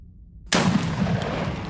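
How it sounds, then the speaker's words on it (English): A shotgun blast fired at close range in the Iron Gods video game: a single sudden loud crack that cuts in after near silence, followed by a sustained noisy wash. "This one runs right up to Tokala and shotguns him."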